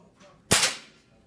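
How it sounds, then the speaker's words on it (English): A single sharp shot from a Browning Rutten Air Star electric spring air rifle, a loud crack with a short decaying tail after a quiet start. "to actually fire it, you have to press the same button again"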